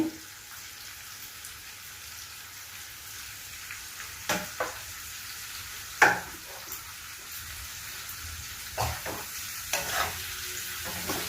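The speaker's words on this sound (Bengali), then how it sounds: "এবার পেঁয়াজটাও একটু ভাজা ভাজা হবে" Onions frying in a pan for chowmein give a steady sizzle with occasional sharp clinks and scrapes as they are stirred and tossed, close and clear with no talking.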